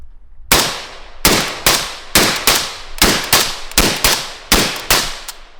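Suppressed rifle gunshots through a 30 cal Resonator K suppressor, about ten sharp, loud cracks fired in a fairly steady rhythm, each with a short decaying tail and no talking.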